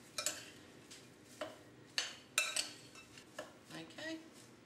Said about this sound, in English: Stir it through so that it's just evenly dispersed.